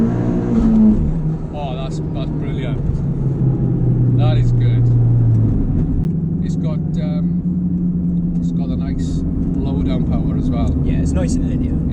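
A Ford Fiesta S280 with a stage 3 mapped turbo engine pulls hard through the gears, its deep rising drone and turbo whistle heard from inside the car as people talk throughout.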